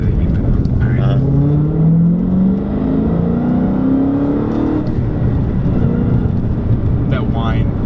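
A Dodge Hellcat with a six-speed manual accelerates hard through the gears, its loud supercharger whine rising steadily in pitch over a deep engine roar, with people talking inside the cabin.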